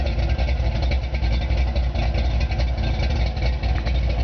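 A 1971 Ford Torino GT engine idles loud and close with a choppy, uneven lope from an aggressive cam, rumbling steadily throughout.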